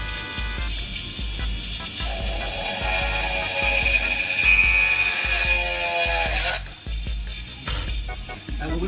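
A prototype miniature drilling machine bores into 0.5 mm aluminum sheet. The motor gives a close, whirring whine over a rhythmic low thumping, with a sharp burst of noise near the end.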